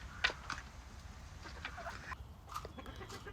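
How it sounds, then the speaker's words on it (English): Hens clucking softly in a farmyard, a few short scattered calls over a low steady background, moderately near. "These hens here are so pretty."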